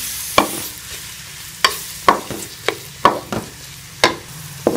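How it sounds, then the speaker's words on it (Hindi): Onions fry in ghee in a kadai with a low, steady sizzle, broken by a series of sharp scraping clacks as a spoon stirs the pan at uneven intervals. "प्याज को लाइट ब्राउन होने तक मैं फ्राई कर लूँगी"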